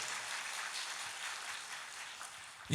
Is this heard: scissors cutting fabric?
no